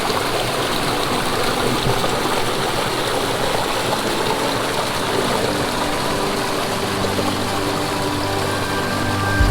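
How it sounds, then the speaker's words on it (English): A small creek spills down over rocks in the Adirondack High Peaks wilderness, giving a steady, close rush of water with no voices throughout. "Seen a pretty cool little creek coming down the rocks."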